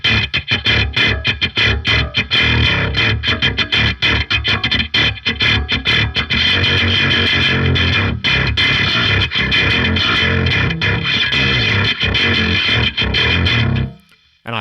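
Heavily distorted bass-style riff through a Darkglass B7K distortion model on a Fractal Audio Axe-Fx, drive eased back and tone control cranked, played as a run of diminished chords; loud, dense and continuous, cutting off abruptly near the end.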